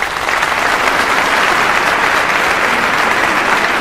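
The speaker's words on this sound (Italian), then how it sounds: "Grande applauso." Dense, steady applause from a television karaoke show audience greeting a contestant, a continuous wash of many clapping hands at full volume throughout, with no voices standing out.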